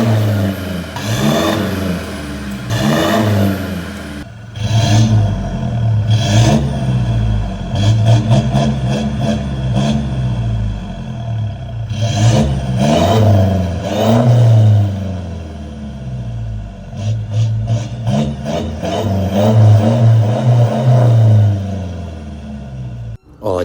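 A 2022 Toyota Hilux 4x4 with a full exhaust system revs repeatedly, loud and close, in bursts that climb and fall over a rumbling idle, with a brief pause in between.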